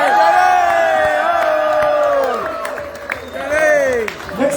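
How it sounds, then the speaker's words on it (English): A crowd at a New Year's Eve polka band show cheers and whoops loudly for a band member, with sustained, rising and falling voiced shouts over a bed of clapping that dips briefly before swelling again. "how about a nice big round of applause for Mr."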